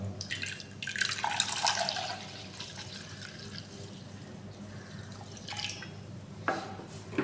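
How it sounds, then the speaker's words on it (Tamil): Water is poured and splashes into thick sour curd, with bursts of pouring and stirring, then quieter dribbles and a few drips. "அதுக்கு தண்ணியை நம்ம இதோட கலக்கிறோம்"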